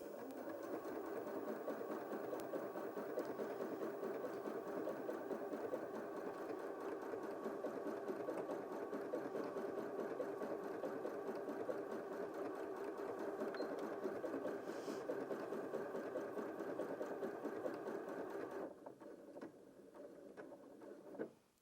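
A Janome M100QDC sewing machine stitches a decorative tulip pattern in a steady, fast mechanical whir with a rapid ticking needle rhythm, close and continuous, then slowing and winding down near the end.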